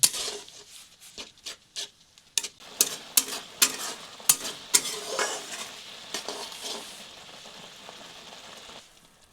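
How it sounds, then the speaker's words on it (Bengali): A spoon scrapes repeatedly through a date-palm jaggery sandesh mixture in a pan, giving sharp, uneven strokes close by over a faint soft sizzle, with no talking. "তো এরপর এটিকে প্রায় আরও 5 মিনিটের মতো এরকম করে নাড়তে হবে।"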